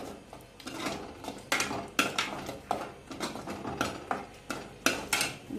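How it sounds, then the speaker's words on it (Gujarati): A utensil scrapes and clinks repeatedly against a pan while paneer masala chutney with Kashmiri red chili powder is stirred, in a steady rhythm of sharp metallic knocks close by, with no voices. "અને ચટણી આપણે મિક્સ કરી લઈશું"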